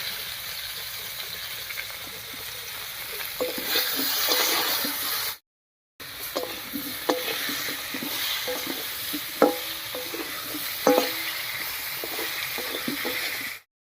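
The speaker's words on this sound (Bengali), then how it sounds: "পটলগুলো ভাজা হতে থাক" Pointed gourd (potol) frying in oil with salt and turmeric gives a steady close sizzle, stirred with soft scrapes and clinks, broken by one brief gap.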